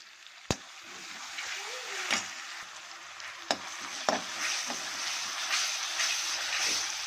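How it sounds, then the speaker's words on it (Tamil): Ginger paste stirred into pepper chicken made with country rooster, frying steadily in a pan with a constant sizzle and a few sharp scraping knocks of the spoon. "நம்ம அரைச்சி வச்ச இஞ்சி பேஸ்ட் விழுதை நம்ம இதில் போட்டுக்கிட்டு நல்லா கிளறி விட்டுக்கலாம்."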